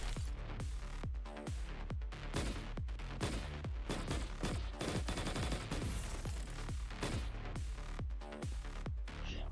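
Rapid gunfire in the game Punishing: Gray Raven, dense repeated shots in quick succession with punchy low thumps, sustained and loud from start to finish.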